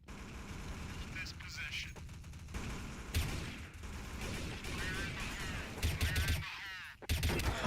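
Gunfire in a first-person shooter game: dense, continuous bursts of rapid shots and loud explosions with layered game sound effects, and a voice talking over the action.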